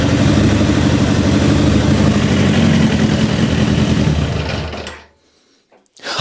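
A Suzuki GSX-R motorcycle engine running with the throttle held slightly open, a steady, close mechanical drone that cuts out abruptly near the end, leaving brief quiet before a short noise returns.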